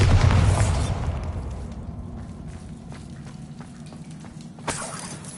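A Bombarda spell blast in the Hogwarts Legacy video game: a loud, deep boom at the start that rolls off into a long rumbling decay, followed by a sharp crack of debris near the end.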